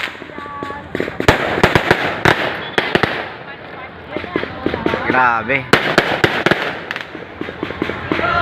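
Rapid firecrackers and fireworks crackle and pop in dense bursts at a political grand rally, with excited voices talking and shouting over the noise.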